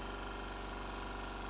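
A salvaged, nearly new air compressor found at a dump runs quietly with its fan spinning, giving a steady, even low motor hum with faint rhythmic pulsing and no voices.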